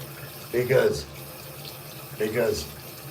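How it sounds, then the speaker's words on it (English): Tap water runs over hands being washed at a sink, coming in two short splashing bursts separated by a quieter pause, close and fairly soft. "Do some hand washing"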